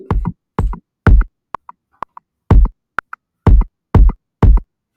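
Trap beat from Soundation with the kick drum run through a limiter instead of distortion, booming kicks hitting hard and loud with a few sharp snappy percussion ticks between them.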